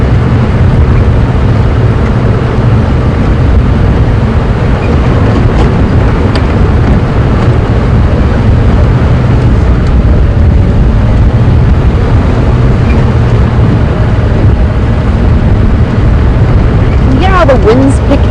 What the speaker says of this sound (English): The wind's picked up.